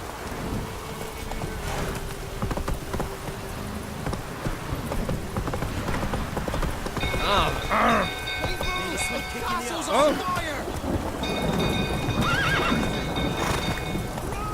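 A horse gallops in The Witcher 3: Wild Hunt, hooves clopping rhythmically through rain and rumbling thunder, with neighs breaking in, and a voice speaking briefly.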